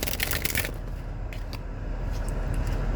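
Tarot cards shuffled by hand, a quick riffling flutter of card edges up close, fading into softer scattered card taps.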